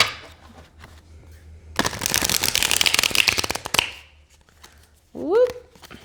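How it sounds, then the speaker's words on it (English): A tarot card deck is riffle-shuffled in one loud two-second burst of rapid card flaps, with quiet handling before and a brief voice afterward. "let's go ahead and shuffle these up"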